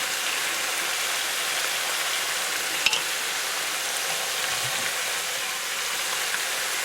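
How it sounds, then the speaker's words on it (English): Onions and mutton fry on a high flame, a steady dense sizzle throughout with one brief clink of a utensil partway through, close and unbroken by voices. "Let the onions fry nicely with the mutton."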